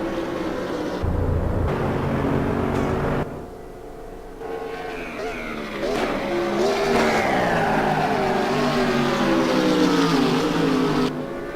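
A BMW race car in a sim racing game at Mugello, from the 2014 South African simGT series, revs hard with a rising and falling engine whine through corners, loud and steady across the clip.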